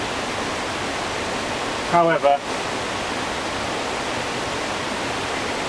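A river flowing outdoors gives a steady broadband rush throughout, with a brief spoken word near the middle.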